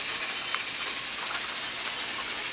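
A train in the Criminal Escape video game gives a steady rumbling hiss with faint rail clatter, continuous and fairly loud with no voices.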